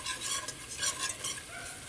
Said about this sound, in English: you do want to cook it long enough to get the